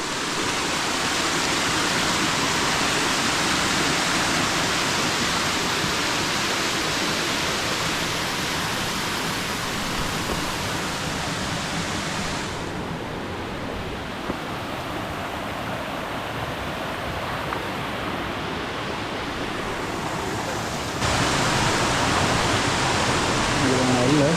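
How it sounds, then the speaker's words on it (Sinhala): Yaka Handu waterfall in Sri Lanka roars as a steady, loud, broadband rush of falling water close by, continuous throughout with a brief softening of the hiss midway before it swells again. "අපි තව ලොකු ඇල්ලක් ගාවට කිච්චුයි මම හිතන්නේ අකහඬු ඇල්ල ආසන්නයට අපි ඇවිල්ලා තියෙන්නේ"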